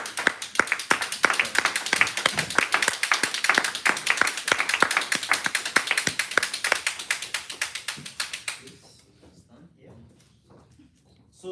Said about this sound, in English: With the thunderous applause, help me welcome Toastmaster Anna Dazi